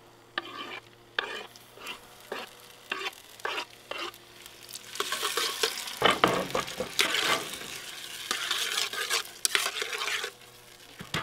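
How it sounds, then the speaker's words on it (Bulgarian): Garlic and chopped tomatoes dropped onto softened onions in a hot pan, setting off a close, busy sizzle with repeated spoon-stirring scrapes and taps, growing louder and denser as the tomatoes hit the oil, with no voices. "Вече поумекналият лук, добавям чесъна, както и накълцаните домати."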